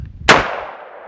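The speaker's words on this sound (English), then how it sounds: "we're gonna shoot number 4 buckshot up close and personal" A VR-60 shotgun fires a single round of number 4 buckshot at a home door at close range, one sharp loud blast followed by a long fading echo.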